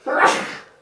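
One sudden, loud, close sneeze, a sharp burst that fades quickly, heard alone.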